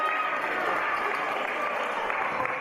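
A wrestling crowd roars in a steady, dense wash of cheering and applause that holds level throughout the short span, with no clear break or peak.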